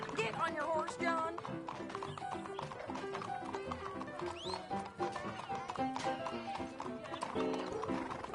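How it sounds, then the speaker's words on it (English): A horse in the Red Dead Redemption 2 video game clip-clops steadily with hooves over a dense game soundtrack, and a whinny rises midway, with voices mixed in. "Get on your horse, John."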